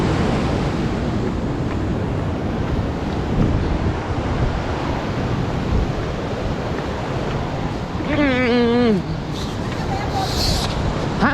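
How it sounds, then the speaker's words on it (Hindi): Water rushes beneath a huge rock in Naran Valley with a loud, steady, wind-blown roar, and a voice briefly rises over it near the end. "और उसके नीचे से पानी ऐसे लहलहा रहा है ना"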